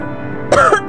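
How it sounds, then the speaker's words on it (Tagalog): A single rough, wet cough rings out close by after a moment of low background hum, with a second short cough starting at the end. "lumalala yata yung ubo mo."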